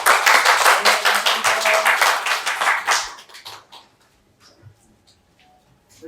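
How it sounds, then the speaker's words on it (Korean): An audience at a political candidacy announcement for a provincial party chair applauds to welcome the speaker. The dense clapping lasts about three seconds, then drops off sharply into near quiet with a few scattered sounds. "힘찬 박수로 맞이해 주시기 바랍니다"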